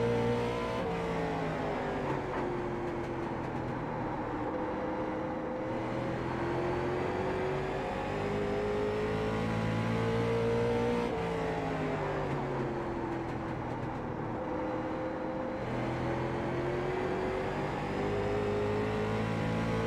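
Late model race car engines at Stafford in iRacing hold a steady, sustained drone whose pitch dips and rises through the corners, alone and fairly even in loudness throughout.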